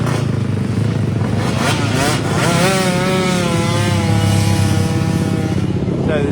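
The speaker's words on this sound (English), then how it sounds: "So the scooters are off and away on warm-up lap" Several stock racing scooters rev and buzz as they set off on a warm-up lap at Pembrey circuit, engines rising and falling nearby while a commentator talks over them.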